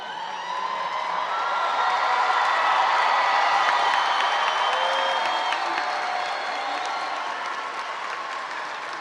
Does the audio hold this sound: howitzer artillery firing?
no